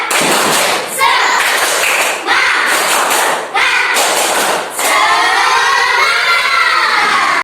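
A fifth-grade class repeats a rhythmic cheer, loud grouped claps and thumps landing in several sharp clusters, with children shouting and chanting between and after the beats.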